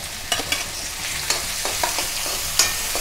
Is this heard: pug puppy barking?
no